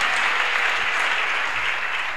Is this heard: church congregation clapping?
yes